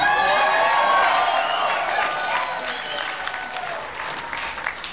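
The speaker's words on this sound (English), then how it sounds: "listening to everybody cheer, I got chills going through my body right now" A large crowd at a football fan event claps and cheers, loud and dense, with whoops and shouts over sustained applause that slowly thins out.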